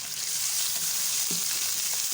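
Ginger garlic paste sizzles steadily in hot oil with browned onions while cooking an egg and potato curry, a continuous close frying hiss with no voices.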